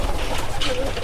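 A Rajshahi local giribaz pigeon coos in a brief, close burst. Other noise and a voice can be heard around it.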